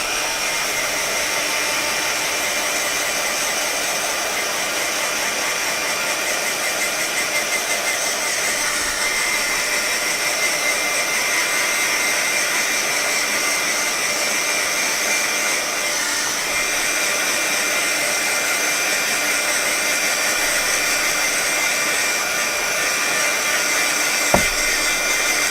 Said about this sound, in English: So I am going to hit it with a heat tool just because I don't want it to be smudging as I color